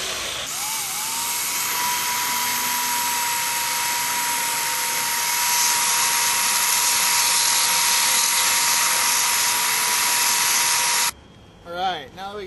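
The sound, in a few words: belt sander smoothing edges of snowboard riser plates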